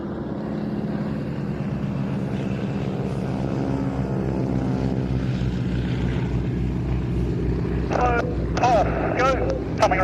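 Boeing Stearman biplanes droning past at an air show festival, a steady loud radial-engine roar with propeller buzz that holds throughout, with a few faint sharp sounds near the end.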